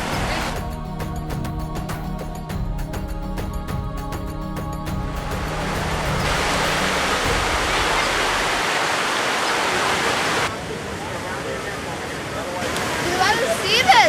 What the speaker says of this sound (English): That's all the gutter water from Vegas.